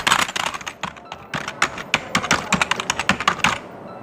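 Fast typing on a Techcom USB RGB keyboard, a close, dense run of sharp plastic key clicks with uneven rhythm and brief pauses.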